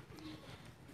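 A female Shermili-breed pigeon coos once, a soft, low, brief murmur close by against faint background noise.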